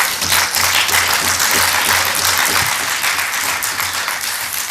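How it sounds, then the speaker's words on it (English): Members clap at a parliament closing ceremony, a loud, sustained, dense round of applause filling the chamber steadily over a faint low hum. "I think we should now give them a very loud applause."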